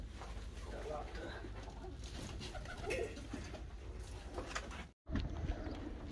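Pigeons coo steadily at a poultry coop, a low murmuring chorus running through the whole stretch beside chickens, with a brief dropout near the end.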